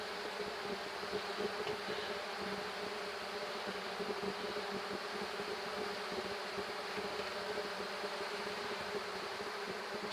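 Many honey bees drone around an open hive holding a swarm with brood, a steady, dense, close buzzing hum that continues throughout with no voices.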